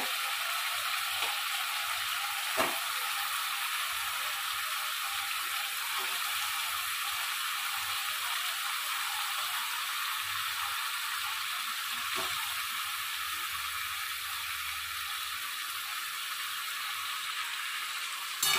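Chicken pieces frying in a fresh coconut masala for a dry chicken dish, giving a steady, bright sizzle that holds evenly throughout, with occasional faint scraping ticks from stirring, close and continuous, without voices.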